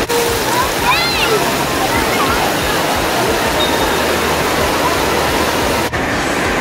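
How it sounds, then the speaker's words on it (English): An indoor water park waterfall pours loudly and continuously, a dense, steady rush of splashing water close by, with excited voices and a squeal faintly audible beneath it. "Parker, we're about to get under the waterfall."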